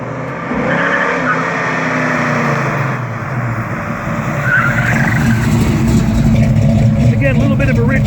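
A 1969 Dodge Charger Hemi R/T pro-touring car drives around the block, its engine a steady broadband rumble that swells louder as it approaches, with people talking over it.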